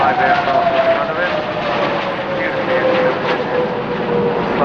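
Aerobatic display jets of the UAE Fursan Al Emarat team roar overhead at the Farnborough Airshow, a loud continuous engine rush with a slowly falling whine, under a commentator's voice.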